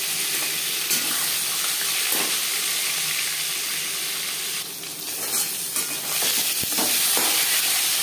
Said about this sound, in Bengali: 4 চামচ রিফাইন্ড অয়েল গরম করে নেওয়ার পর দিয়ে দেবো ম্যারিনেট করে রাখা